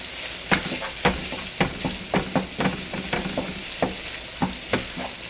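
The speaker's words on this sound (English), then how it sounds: "And then I'm going to add my onions to the pan." Onions hitting a hot pan with tri-tip and sizzling steadily, broken by a string of sharp scraping stirs and clatters at irregular intervals, close and fairly quiet.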